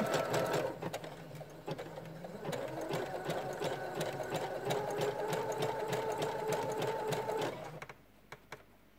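A sewing machine runs a zigzag stitch along the edge of fabric for a mini tote bag, a close, steady mechanical whir with rapid needle ticking that holds for about seven seconds and then stops, with no talking.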